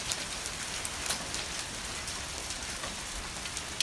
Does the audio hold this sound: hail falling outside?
yes